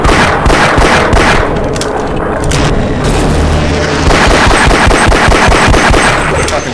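Gunfire in the video game Half-Life: Blue Shift, loud rapid bursts of automatic shots and heavy booms firing continuously, close and dense throughout.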